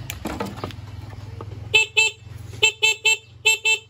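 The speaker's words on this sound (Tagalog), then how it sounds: "Ito yung busina natin" A motorcycle horn honks repeatedly, a couple of short blasts then a rapid series of quick toots, over a low idling engine rumble.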